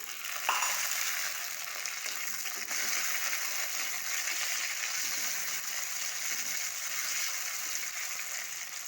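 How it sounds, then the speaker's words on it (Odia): Onions fry in a pan as tomatoes go in, a steady, moderately quiet sizzle and hiss throughout, with a brief clatter near the start. "ପିଆଜ ଆମର ଭାଜି ହେଇଗଲାଣି। ଏବେ ଟମାଟର ପକାଇଦେବା।"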